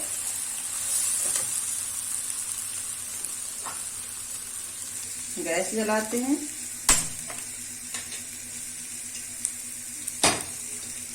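Spiced mutton frying in a pan on a gas stove, with a soft, steady, close sizzle running throughout, punctuated by a few utensil clinks and a brief spoken voice.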